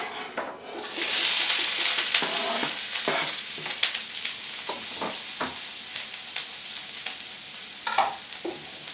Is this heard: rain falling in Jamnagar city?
no